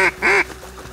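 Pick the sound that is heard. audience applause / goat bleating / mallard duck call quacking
mallard duck call quacking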